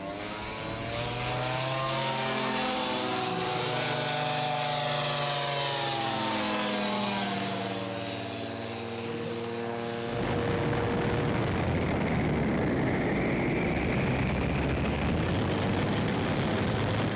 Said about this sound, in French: la puissance du moteur JPX 320 cm3 réducté, un moteur Dual-M, qui entraîne une hélice de plus d'1 mètre de diamètre